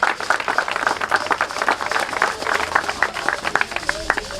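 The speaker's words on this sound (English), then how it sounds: "Can we please hear a thunderous round of applause to Mr. President?" An audience applauds the President of Nigeria at a public event, a round of uneven clapping with irregular bursts of hands that rise and fall across the whole stretch.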